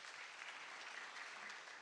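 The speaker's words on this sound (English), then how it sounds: "Let's give them a clap." A gala audience applauds its sponsors, a soft, distant wash of steady clapping heard alone for a couple of seconds.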